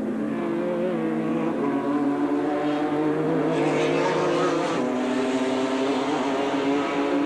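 Neil Crompton's number 7 Formula Holden race car roars past on the start-finish straight at Mallala circuit, a loud sustained engine howl with a shifting pitch as it goes through.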